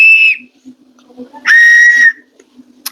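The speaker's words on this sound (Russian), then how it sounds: "У первого свистка звук немножко по-другому." A shaman-consecrated whistle sounds two clear, high steady tones, a short one and then a longer one after a pause, loud and close, with faint background noise between them.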